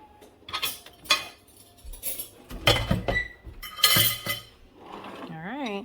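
Metal spoons and cutlery clink and clatter against dishes and pots in a home kitchen while chicken noodle soup is being made, sharp scattered chinks between moments of talk, ending in a brief high-pitched vocal sound.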